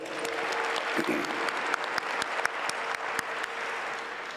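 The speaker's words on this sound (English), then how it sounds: "Can we give him a round of applause?" An audience at a public hearing on an education bill in Johannesburg gives a steady round of applause, with individual sharp claps standing out over the dense crowd clapping.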